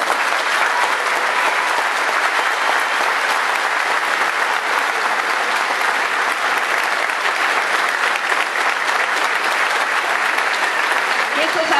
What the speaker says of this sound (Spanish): esos aplausos que con tanta fuerza cada uno de ustedes da